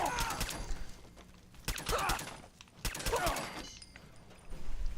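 A short combat rifle fires in a modded wasteland survival video game, with three loud, close bursts of rapid shots separated by brief gaps.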